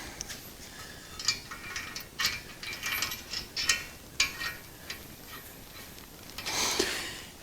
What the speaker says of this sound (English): And that's a 3/4 inch wrench and socket.